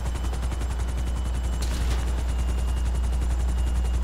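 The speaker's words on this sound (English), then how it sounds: "Go ahead and take your helicopter down if you have it" Helicopter in GTA Online during a Cayo Perico heist setup, a steady rotor chop pulsing loud and close throughout under a dense mechanical drone, with no talk.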